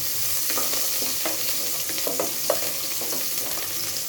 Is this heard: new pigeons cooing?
no